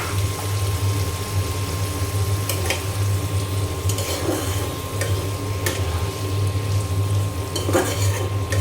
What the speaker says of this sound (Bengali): এখন মশলা তেলের সঙ্গে খুব ভালো করে আমি কষিয়ে নেব